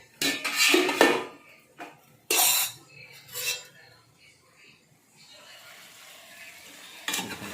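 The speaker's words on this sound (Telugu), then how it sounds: "ఇప్పుడు మనం ఒక్కసారి వంకాయల్ని కలుపుకుందాలి" White brinjal curry with ginger-garlic paste being stirred in a pan: a few loud, close scrapes and clatters of a spoon against metal, with quiet gaps and a faint sizzle between.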